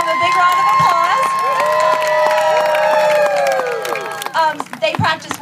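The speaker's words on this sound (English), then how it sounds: "Let's give them a big round of applause." A crowd cheers and claps for a children's cheer team, with high excited voices and whoops ringing over scattered applause that tapers into separate claps near the end.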